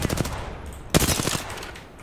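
Video game gunfire in a duos battle royale round, a rapid burst of automatic shots followed by a sharp loud report and further cracking fire, fairly close, with a faint voice murmuring underneath.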